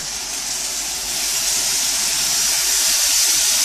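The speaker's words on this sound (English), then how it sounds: "So you hear when that stock hits it, it goes shh and sizzles." Stock poured into a hot pan of tomato-based sauce sets off a loud, steady, bright hissing sizzle close by, building slightly and continuing without pause.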